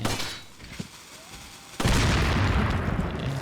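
An explosion in Resident Evil 4 gameplay: quiet game ambience gives way to a sudden loud blast that holds as a dense, roaring wash of debris and rumble to the end.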